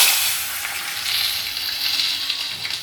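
Hot oil tempering with asafoetida and fenugreek poured into rasam, a loud, close, hissing sizzle that surges and crackles steadily throughout.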